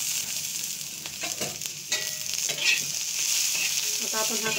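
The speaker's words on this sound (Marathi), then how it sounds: "आता आपण हा कांदा व्यवस्थित भाजून घेऊ" Onions roasting in about half a spoon of oil on a hot tava, a steady close sizzle broken by scraping stirs and light knocks of the spatula against the pan, with no talk.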